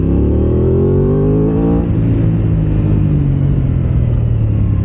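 An Aprilia RS660 Extrema parallel-twin sport bike revs and pulls away, its loud engine note climbing in pitch, then dropping with a gear change into a steady rising drone, close and alone.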